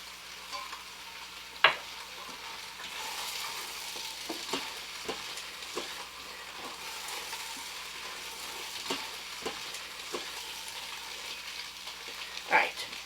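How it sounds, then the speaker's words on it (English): Diced celery and beef sizzle in an Instant Pot, a steady frying hiss broken by scattered stirring scrapes and a couple of sharper clanks. "Now we're going to add 2 stalks of celery, which we've diced up nicely."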